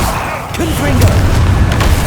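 A Confringo fire blast spell from Hogwarts Legacy, a short heavy boom and crackle of magical impact in the middle of combat, with a voice shouting over it.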